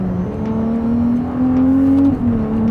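Ferrari 296 GTB engine and exhaust revving up in a rising, strong tonal drone, climbing steadily before a brief dip and settling again, loud and close.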